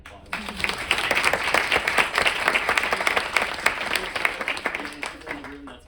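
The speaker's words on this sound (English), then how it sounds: "Give her a round of applause." A room full of people applauds a federal lobbyist at a talkback event, with dense, sustained clapping that stays steady and fairly loud for several seconds.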